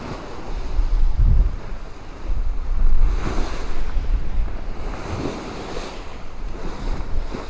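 Wind and waves at sea aboard a sailboat in about 15 knots of wind on the Roscoff to Ouessant passage, a steady rushing roar of gusts buffeting the microphone with surges of surf washing past the hull.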